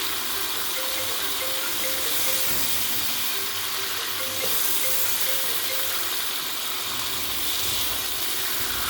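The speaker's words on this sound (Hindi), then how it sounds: "अब हम इसके अंदर डालेंगे लहसुन अदरक का पेस्ट। अब हम इसके सीधा भूनेंगे।" Steady sizzling of garlic ginger paste frying in a pan for chicken karahi, a continuous hiss with faint stirring and a soft tonal hum in the background.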